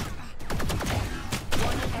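Gunshots in Valorant, a tactical shooting game: a short cluster of sharp, loud shots in two bursts, with faint voices in the background.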